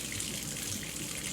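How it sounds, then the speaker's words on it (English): Hot water runs steadily from a kitchen tap into a stainless steel sink, a continuous close hiss and gush without pause and with no talking. "I run the hot water."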